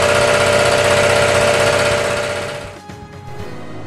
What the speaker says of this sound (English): That old, noisy, reciprocating compressor?